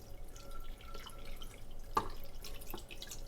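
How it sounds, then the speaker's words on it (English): Water drips from an OXO cold brew coffee maker's perforated rainmaker lid into coffee grounds, a quiet scatter of irregular patters with one sharper nearby drop. "I am going to get my water, and we're just going to basically pour it around here"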